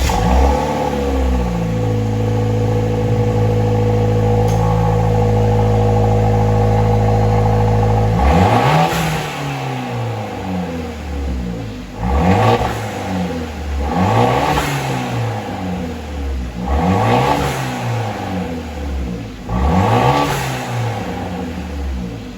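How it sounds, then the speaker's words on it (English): Fiat 124 Spider Abarth on its factory exhaust, first idling steadily and close for several seconds, then revved repeatedly in five or six rising-and-falling blips, loud and alone. "let's take a quick listen on how the factory exhaust system sounds."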